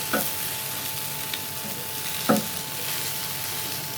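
Fish fried golden brown on a flat tawa gives a steady, close sizzling hiss, broken by two brief clicks of a utensil, with no voices.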